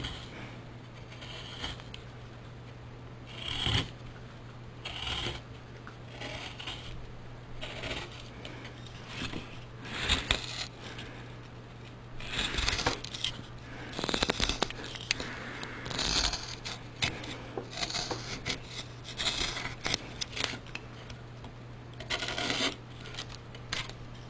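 A carving knife rasps repeatedly against wood while cutting chips out of the bowl of a wooden love spoon, irregular scraping strokes up close over a faint steady hum, with no talking.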